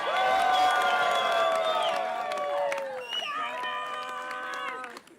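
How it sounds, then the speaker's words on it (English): Wedding guests at a dinner let out a loud, sustained group cheer with whoops and shouts that trail off into scattered voices and a bit of clapping. "We'll give him a massive cheer and he might hear."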